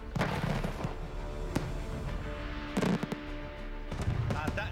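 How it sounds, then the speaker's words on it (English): Loud firework bursts and sharp cracks boom over continuous crowd noise and talk, with several explosions spread across the clip. "And you can see spread many, many little fireworks."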